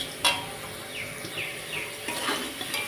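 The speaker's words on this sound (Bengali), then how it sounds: "আলুগুলো না আমি লাল করে সুন্দর করে ভেজে নিচ্ছি" Potatoes fry in hot oil in a home kitchen pan, with a steady soft sizzle broken by a sharp clatter near the start and a few light scrapes of stirring, all fairly quiet and free of talk.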